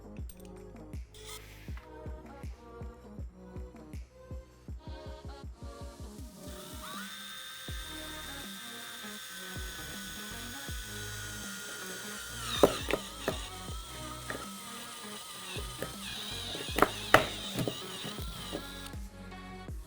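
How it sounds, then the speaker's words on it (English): Steady grinding drone of a spade bit drilling through a plastic hydroponics tub, with rhythmic bursts early on and sharper cracking spikes near the end; close and continuous, no talking. "we will drill for the bulkhead fitting that goes into the tank"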